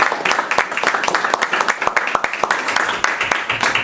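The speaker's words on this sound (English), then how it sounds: "just give these two young people and this young lady right here a round of applause" Round of applause from an audience at a board meeting, a steady patter of many hands clapping with sharp individual claps throughout, moderately loud and close.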